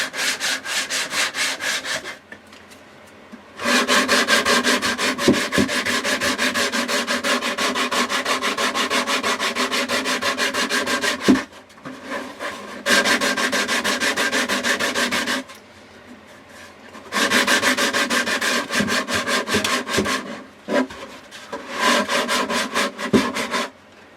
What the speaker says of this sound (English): I've probably spent about an hour and a half, 2 hours hand sanding